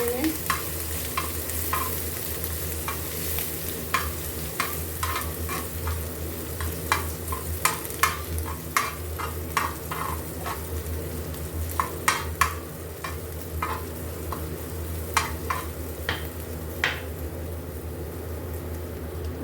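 Crushed garlic, ginger, whole turmeric and green chili frying in ghee, a steady close sizzle with scattered crackles and occasional stirring scrapes, continuous and without talk.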